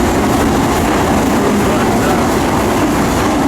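A fast-moving freight train, ridden on the open car, gives a loud, steady roar of wind and rolling wheels along the Hi Line with no distinct breaks.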